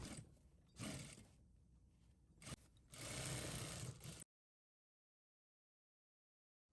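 A sewing machine stitches down jacket panels together in a few short, close bursts with brief pauses between them, then stops into silence.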